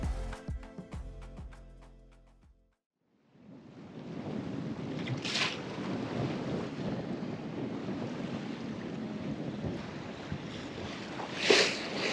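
Sailboat bashing through rough seas and strong wind at night on an offshore passage, a loud steady roar of wind and rushing water with occasional louder splashes, after a few seconds of music that fades out.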